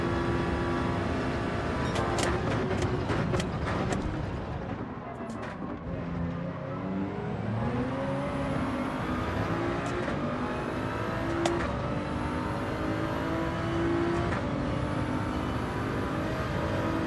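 Race car engines in the Gran Turismo 7 video game, including a Beetle in a slipstream, drone steadily with revving rises and falls and passing whooshes throughout, continuous and fairly loud.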